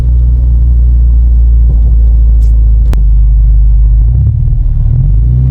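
Toyota MR2 Roadster fitted with a cat-back exhaust, cruising at a steady 3,000 to 4,000 RPM with a loud, droning low exhaust rumble that holds constant throughout, heard from inside the car.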